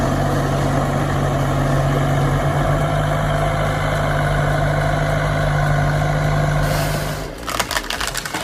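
A forestry mulcher with a heat-treated tooth holder fitted with mini BL blades and mini C/3 teeth runs its engine in a steady, loud, low drone with a heavy hum, which cuts off near the end into rougher, choppier noise.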